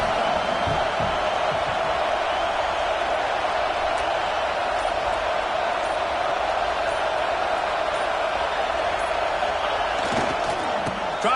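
A dense, steady roar from a packed college football stadium crowd at a Canes vs UM game, loud and continuous with a faint voice over it.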